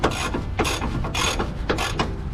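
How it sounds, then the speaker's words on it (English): A ratchet loosening a sway bar bushing bolt on a 1997-2004 Dodge Dakota, giving rapid clicking pawl strokes in several close, loud bursts with short pauses between them. "Now we'll finish it out with the ratchet"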